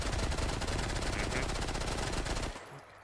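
Rapid, loud automatic gunfire in a video game hammers out as a dense, even stream of shots for over two seconds, then cuts off abruptly, leaving a quiet tail.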